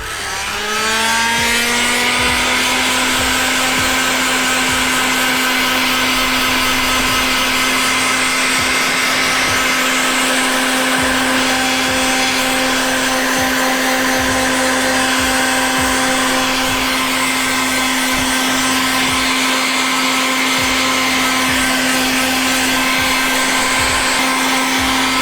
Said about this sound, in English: let's use heat gun and check if we can remove them.